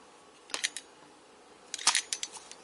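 Two short bursts of sharp plastic clicks as a button on a Bavision waterproof Bluetooth speaker is pressed by accident, a quick cluster of taps followed by a longer run after a pause, close and fairly quiet.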